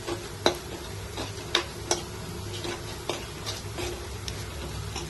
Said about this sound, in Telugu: 1 స్పూన్ జీలకర్ర వేసుకున్నాను నేను. జీలకర్ర ఫ్రై అయ్యేంత వరకు కలుపుకుందాం.